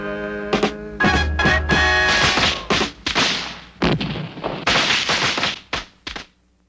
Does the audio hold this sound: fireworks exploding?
yes